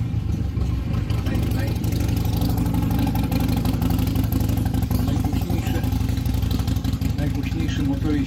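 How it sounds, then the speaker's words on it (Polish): A motorcycle arrives on a Memorial Day street in Texas, its loud, steady engine rumble and throaty idle filling the whole stretch, close by, with voices faintly under it. "Poczekajcie, tylko przyjedzie motor."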